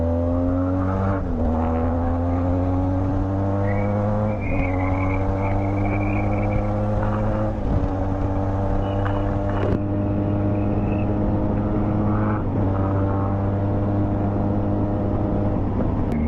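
A Benelli TRK 502X motorcycle's engine drones loudly and continuously with steady exhaust tone, its pitch rising and falling through gear changes, under heavy rushing wind buffeting from riding on winding roads.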